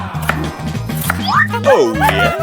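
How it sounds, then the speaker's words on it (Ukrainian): A knife chops vegetables into small pieces in a kitchen, a rapid series of close wooden-board knocks under steady background music, with no talk. "Для початку наріжемо їх усі на невеликі шматочки."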